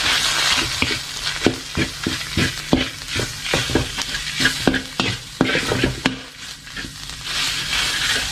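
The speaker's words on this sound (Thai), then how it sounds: "ใช้เป็นไฟเบาเลี้ยงไปก่อนนะครับ สำคัญตอนผัดกะปินี่นะฮะ" Shrimp paste fries with shallots and garlic in a pan over low heat, with a soft continuous sizzle broken by frequent scraping strokes of a spatula. No one talks.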